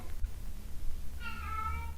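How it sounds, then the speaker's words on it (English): A house cat meowing in the background, a single drawn-out meow rising near the end over quiet room noise. "the cat has started meowing in the background."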